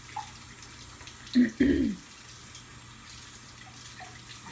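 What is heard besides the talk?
water running from kitchen tap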